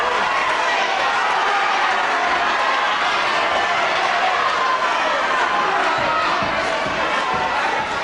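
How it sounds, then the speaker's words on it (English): Wrestling arena crowd roars steadily through a semi-final bout, a dense wall of cheering and shouting that stays loud from start to finish with no individual voices standing out. "Oh, the crowd really loving this semi-final"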